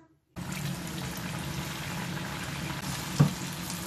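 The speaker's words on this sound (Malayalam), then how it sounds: "ഇനി ഇത് നമുക്ക് ചൂടായ എണ്ണയിലിട്ട് വറുത്തു കോരാം" Steady sizzling and bubbling of food frying in hot oil starts abruptly and continues evenly, with a faint clink near the end.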